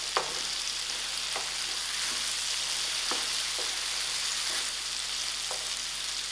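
Peppers fry in a pan with tomato and salt for a seafood paella, giving a steady close sizzle punctuated by light clicks and scrapes of stirring.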